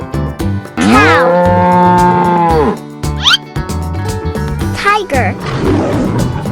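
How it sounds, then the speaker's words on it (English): A cartoon cow gives a loud, drawn-out moo that swells and falls off, followed by shorter bellowing calls and other animated effects, all close and prominent. "cow"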